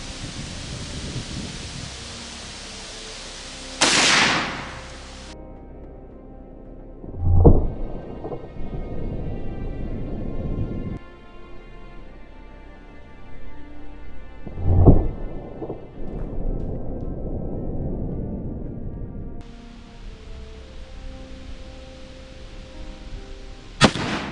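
Five loud, sharp shots fired at intervals from a 1969 Ruger Model 44 semiautomatic .44 Magnum carbine at a 50-yard range, each blast booming and then trailing off into a long echo.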